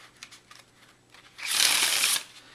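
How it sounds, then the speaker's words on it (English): A quick riffle shuffle of cheap, gritty playing cards, a few faint taps followed by a short, bright burst of the card backs rubbing and fluttering together, close up with no talking. "That's the sound of the backs rubbing against each other."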